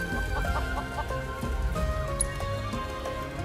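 Chickens cluck continuously in Final Fantasy VII Rebirth, a busy flock of fowl calls over a steady game music bed with a bright chime partway through.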